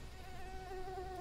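A mosquito buzzing in a video game: a thin, steady, high-pitched whine that holds for over a second, fairly quiet, over a low background hum.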